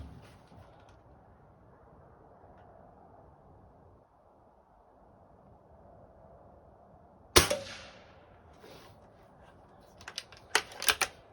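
A Xisico XS46U air rifle fires pellets at targets: after a quiet stretch, one sharp, loud shot crack lands about two-thirds through, followed near the end by a short cluster of quick clicks and snaps, with no talking.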